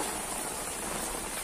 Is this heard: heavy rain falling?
yes